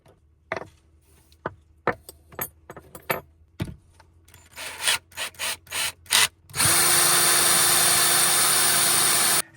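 A snap-kit punch tool in a drill makes holes in leather belts inside a small van: a run of sharp clicks and taps, then a loud, steady drill whir for about three seconds.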